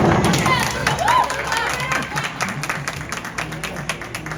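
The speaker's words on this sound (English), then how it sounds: "Big cheering section from the Sakoma ladies over there" Cheering crowd of women at a bowling alley during finals, a steady bed of applause, claps and excited voices filling the hall, with dense clattering and chatter throughout.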